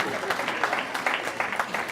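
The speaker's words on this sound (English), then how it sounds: "let's have a cheer from the sustainability group members" A school sustainability group cheers and claps in a hall, a short burst of mixed applause and shouts from a crowd, with a voice talking over it.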